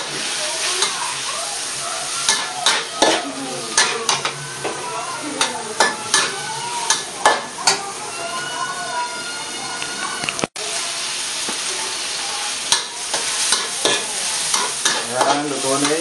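Shrimp stir-frying in a pan for shrimp fried rice, with loud sizzling broken by repeated sharp scrapes and tosses of the spatula in an uneven rhythm, close and clear.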